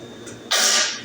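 A single sharp sneeze bursts out suddenly, loud and close, after a moment of quiet.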